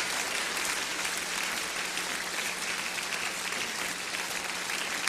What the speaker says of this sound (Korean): 뜨겁게 박수로 축하해 주시면 감사하겠습니다